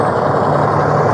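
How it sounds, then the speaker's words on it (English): A truck engine runs close by with a steady, rough low rumble and an even droning hum throughout. No one speaks over it. "That truck's going to be really loud."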